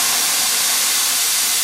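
Steam wand on a Brasilia Opus Sublima coffee machine hisses steadily and loudly, a continuous rushing blast of steam with no pauses, heard alone up close.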